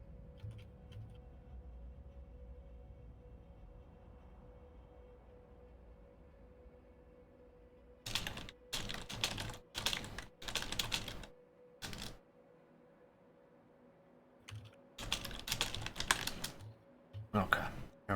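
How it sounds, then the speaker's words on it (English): Typing on a computer keyboard, several quick bursts of close tapping keystrokes separated by pauses, rising out of a quiet low hum of background game sound. "Little tip-tapping on the typing there."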